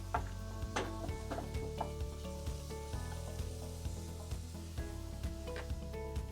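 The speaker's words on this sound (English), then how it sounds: "sauteing for maybe 8-10 minutes, the mushrooms and onions" Mushrooms and onions saute over low heat in a pan, a quiet close sizzle with light stirring clicks and scrapes, no voices.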